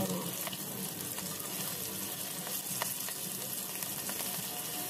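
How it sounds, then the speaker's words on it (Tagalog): Chicken feet frying in hot oil in a pan, a quiet, steady sizzle and crackle with a few sharper pops scattered throughout. "Nagpapainit na po ako sa kawali ng ating mantika."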